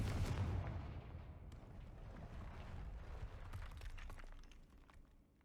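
Confringo fire-blast spell exploding in the video game Hogwarts Legacy, a muffled rumbling blast that starts strongly and then fades into a low, rolling roar, faint and distant-sounding throughout.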